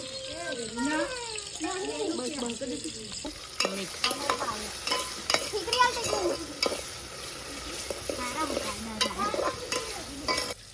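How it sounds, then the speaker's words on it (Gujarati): Maggi masala with tomato, green chili and coriander frying in a pan, sizzling and stirred with clattering spoon scrapes, while a voice talks over the first few seconds. "આ મેગી પહેલા નાખી દીધા ટામેટા પછી નાખ્યા મરચા"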